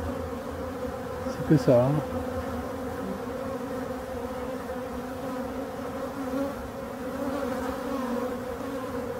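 A dense swarm of male honeybee drones buzzing in the air around hives in a forest, a steady outdoor hum throughout with a brief louder pass nearby and a few words spoken in French.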